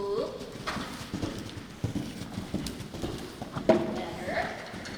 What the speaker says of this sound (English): That's plenty of canter.